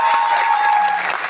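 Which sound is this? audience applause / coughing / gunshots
audience applause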